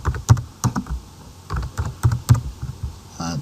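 Typing on a computer keyboard, a quick close run of distinct key clicks with a few short pauses, no talking.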